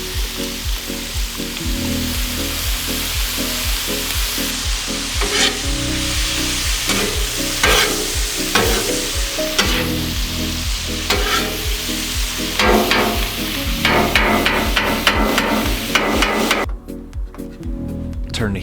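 Steak fries on a Blackstone griddle after a splash of Worcestershire sauce, a loud continuous sizzle overlaid with repeated scraping and tapping of a metal spatula, growing busier toward the end, without speech.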